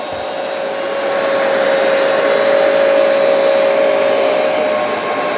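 Hoover PowerDash Pet and Bissell Turbo Clean Power Brush carpet cleaners run side by side, a loud, steady motor whine with a rushing airflow drone that holds evenly throughout, no voices.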